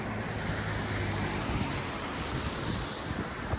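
Wind gusting along a Midtown Toronto street during the season's first snowfall, a continuous low rushing roar buffeting the microphone with no speech.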